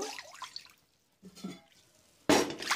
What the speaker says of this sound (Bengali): আমি 3 বাটি জল দেব